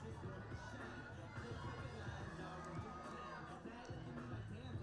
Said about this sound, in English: What a crowd we have here today in Maryland.